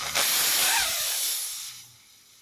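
Pressure vented from a SMACO mini scuba cylinder and its hose: a sudden loud hiss of escaping air that holds for about a second, then tapers off, close by with no talking.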